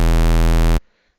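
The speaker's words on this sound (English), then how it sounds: "Taking a simple square wave that sounds like this" A steady, buzzy synthesizer square-wave bass note holds loud for under a second, then cuts off abruptly into silence.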